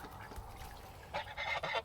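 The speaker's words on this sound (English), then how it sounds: "I got new birds this year. I have duck, duck, goose." A goose honks a few times near the end, loud nasal calls following a quieter stretch of background noise.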